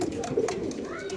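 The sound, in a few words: pigeon cooing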